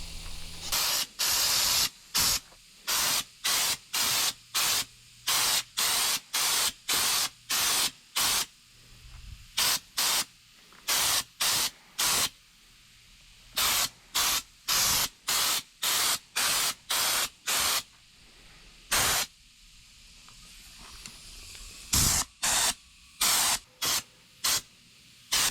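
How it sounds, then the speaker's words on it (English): Raptor liner coating sprayed onto Nissan Hardbody bumpers with a spray gun, loud hissing bursts in a steady series of short passes, about a second each with brief gaps, close up and without talk. "spray the second coat real quick"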